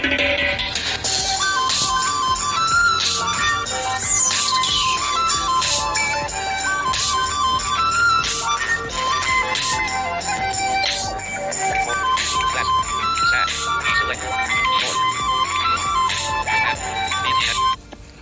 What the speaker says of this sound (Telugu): చాలా ఎక్సలెంట్గా ఉంది మనకి రింగ్ టోన్ అయితే